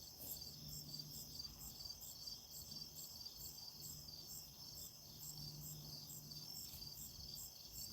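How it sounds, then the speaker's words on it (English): Crickets chirp in a steady pulsing chorus, faint and distant, with a low hum underneath. "You can hear the crickets in the back."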